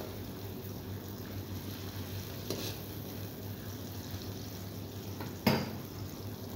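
Vegetables for a Chinese dish fry lightly in a pan with a soft, even sizzle throughout, broken by two brief utensil clatters, close by and without talking.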